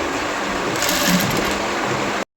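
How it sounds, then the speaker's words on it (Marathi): A domestic sewing machine stitching lace onto the top of a dress, a steady close mechanical whir that runs nearly unbroken before stopping abruptly near the end. "एकदा शिलाई लॉक केली आणि परत सरळ जी आहे ही शिलाई मी अशी लावून घेणार"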